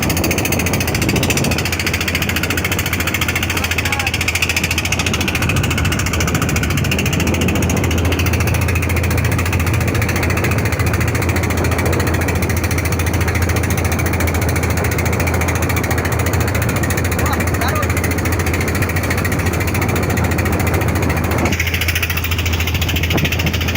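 A trawler boat's engine on the Meghna river in strong current, droning loud and steady with a deep low rumble and vibration throughout, briefly easing near the end.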